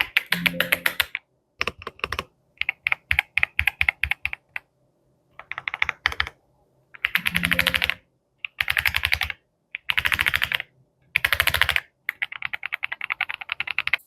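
Typing on an iLovBee B87 hot-swappable mechanical keyboard with RGB lighting: dense bursts of clacky keystrokes in several runs separated by short pauses, close and clear with no talking.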